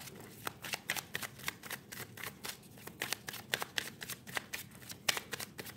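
A deck of angel cards being shuffled, a quiet series of quick, crisp riffling flicks in a steady rhythm, close by and alone.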